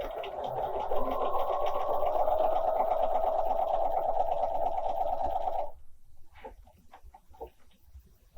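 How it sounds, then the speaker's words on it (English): A Bernina 300 series sewing machine stitches a single pattern repeat, a close, steady rapid mechanical whir for about six seconds that stops abruptly, followed by faint handling clicks. "I would like just one repeat of this number 26 stitch"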